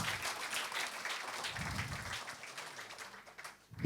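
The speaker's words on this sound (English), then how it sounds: "A huge round of applause, guys, for that" Crowd applause at a panel discussion event in a hall, a steady dense wash of clapping sustained for about four seconds before thinning at the end.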